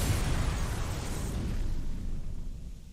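A power bomb detonates in the video game Metroid: Other M, a loud sustained rumbling blast that fills the space and slowly fades over a few seconds, heard alone without talk.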